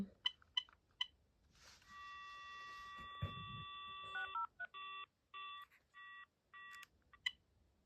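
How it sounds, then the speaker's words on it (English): A Binatone Icarus 2100 phone plays a few short keypad beeps, then a steady dial tone, followed by a series of distinct dialing tones in a clear, evenly spaced rhythm. "It's because I keep on dialing the wrong extension."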